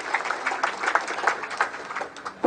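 A gathering of Indonesian migrant workers at a Nahdlatul Ulama event in Taiwan claps in a moderate, uneven patter, fairly quiet and without talk.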